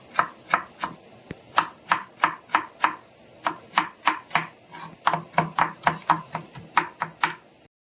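A knife chops vegetables into rice-grain pieces for chicken fried rice, making crisp, regular knocks on a cutting board, around two dozen quick strikes in short bursts with brief pauses, close and loud.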